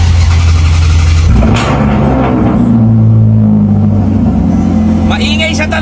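A vehicle engine left unused for about a month cranks and catches, settling into a loud, rough idle with a strong humming drone, while a person talks over it.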